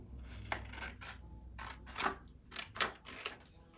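Scissors cutting through a paper card in a kindergarten craft lesson, a series of quiet crisp snips, about eight irregular cuts, close and faint with no talking.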